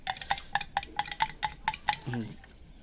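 A thick herbal mixture of twenty-two ingredients, including purified alkushi powder, is stirred in a pot with regular, evenly spaced clinking strokes, about nine in quick succession, followed by a brief low murmur.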